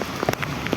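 Rain falls on a rooftop, a brief burst of dense hiss broken by a few sharp drop splats nearby.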